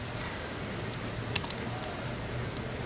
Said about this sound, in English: I can hit delete on my keyboard and it will bring me back a dot each time